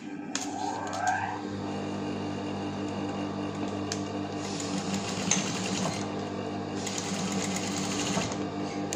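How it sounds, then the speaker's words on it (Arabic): A sewing machine stitches fabric for a homemade face mask, running in a steady mechanical whir with short bursts of faster stitching and small clicks, close up, with room noise and no clear talk. "ها هي غنجيب الماكينة غنخيط هنا ونخيط هنا"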